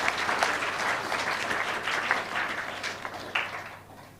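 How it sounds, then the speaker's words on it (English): An audience at a school debate competition claps for both teams, a lively sustained round of applause with scattered sharp claps that thins out and fades near the end. "So please clap for both the teams."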